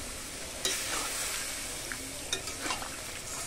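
Lightly fried shrimp tip into a hot pan for a pumpkin-greens ghonto, giving a steady close sizzle with a few sharp clatters and scraping stirs near the start and middle.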